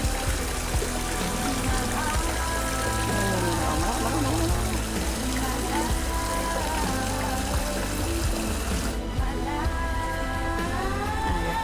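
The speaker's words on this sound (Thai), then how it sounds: "มีบ่อน้ำตกก็มีปลาคาร์ฟ" A small waterfall pours steadily into a carp pond beside a house, a continuous close splashing and gurgling wash that holds even throughout, with faint higher chirps over it.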